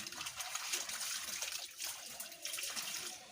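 Clothes being washed by hand in water, with steady splashing, sloshing and trickling close by, continuous through the whole stretch and no talking.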